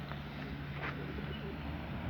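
Pigeons cooing inside a coop, soft low calls that are faint against a steady background hum, with a couple of brief sharper sounds and no talking.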